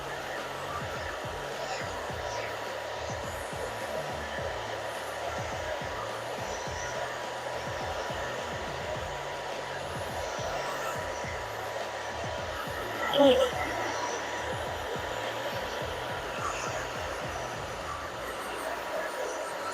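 A hair dryer blows steadily during a haircut, a continuous airy whoosh with faint rhythmic pulsing as it moves back and forth over the hair, with a brief louder burst partway through.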